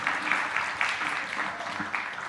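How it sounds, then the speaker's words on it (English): A conference audience claps for the presenters after a plenary session, producing a short burst of dense, moderately loud applause with a few sharper swells. "warm applause for our presenters"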